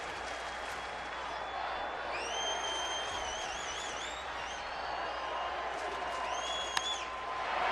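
Nearly 40,000 fans at a baseball game between Minnesota and Arizona keep up a broad, steady crowd roar, distant and diffuse, with a few piercing whistles rising above it.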